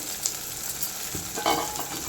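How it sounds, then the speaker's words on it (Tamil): Onions sizzle steadily in a hot pan, with a few scraping stirs of a utensil partway through and no talking. "வெங்காயம் வதங்கிட்டு இருக்கும்போது"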